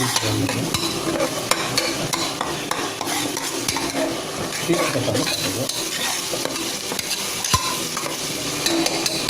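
Cinnamon and spices for a village-style mutton curry sauté in a pan with continuous loud sizzling. Steady stirring and occasional metallic scrapes run throughout.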